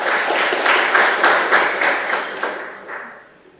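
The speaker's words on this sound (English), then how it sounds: "Another round of applause for our dear VC." Crowd at a student guild swearing-in and handover ceremony clapping for the vice-chancellor, a close, lively burst of hand claps that thins out and fades toward the end.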